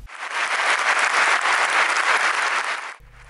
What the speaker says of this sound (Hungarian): Nagy tapsal fogadta a közönség Berec András mesemondót a Pécsi Kodály Központ színpadán.